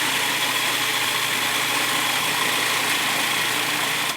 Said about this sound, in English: working with a food processor is it has that built-in safety mechanism where it actually won't even start until you have it on